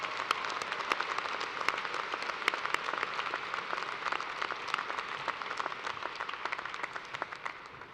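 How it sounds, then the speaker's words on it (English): Crowd at a commencement ceremony claps in a sustained round of dense applause, with individual claps crisp within the mass. It holds steady for several seconds before easing off at the end. "Let's give a round of applause for everyone who helped make this a celebration to remember."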